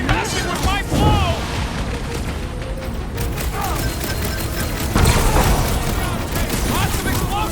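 Explosions in the Marvel Guardians of the Galaxy video game, booming blasts and rapid bursts of fire crackling through the battle, with loud hits near the start and middle, and characters shouting over the chaos.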